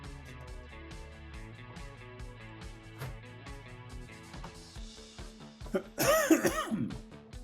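A single sharp cough bursts out near the end, loud and close, over a steady musical background.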